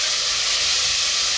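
Pieces of cuttlefish sizzle in a hot pan as the base for a lobster rice, a steady loud hiss with no break.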